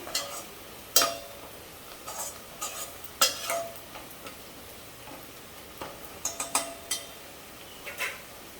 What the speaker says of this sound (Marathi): कांदा हा बघा मस्त शिजला आहे तेलामध्ये